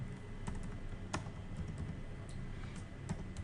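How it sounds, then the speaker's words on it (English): Keys clatter on a computer keyboard during coding in Excel VBA, a quick irregular run of close, light taps with brief pauses between bursts. "here I'm typing VB"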